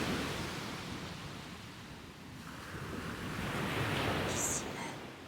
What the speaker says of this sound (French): Dans le clapotis des vagues